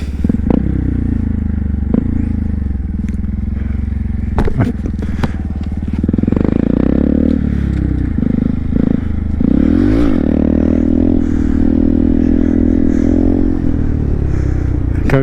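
A Honda Grom motorcycle revs and rides through stunt runs, loud and close, its engine note rising and falling as it accelerates and coasts, with scrapes and clattering noises mixed in.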